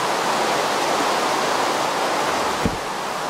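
Rain falls in the Minecraft video game as a steady, even hiss of noise with a brief low thump near the end, and no talk.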